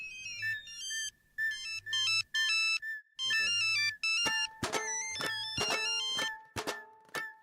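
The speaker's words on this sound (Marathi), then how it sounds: "फोन वाजला." A phone ringtone from a scene in a Marathi TV serial: a loud electronic melody plays in short repeated phrases with brief gaps, then shifts into brighter, harsher ringing bursts toward the end. No voices are heard.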